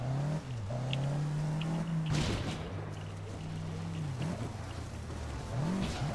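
A car driven in the online game APB, its engine tone gliding up and down as it accelerates and shifts, with a brief burst of tire or road noise midway, loud and continuous.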